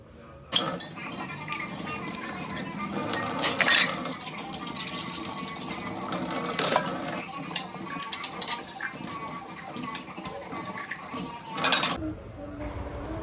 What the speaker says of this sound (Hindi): अभी जा रही हूँ बर्तन धोने